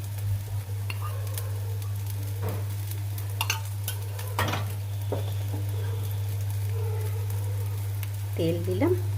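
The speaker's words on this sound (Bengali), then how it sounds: "তেল দিলাম, একটু লঙ্কা, একটু 5 ফোড়ন।" Chilli and panch phoron (five-spice) tempering hitting hot oil in a home kitchen, giving a steady, fairly quiet sizzle with scattered crackles and light utensil clinks over a constant low hum.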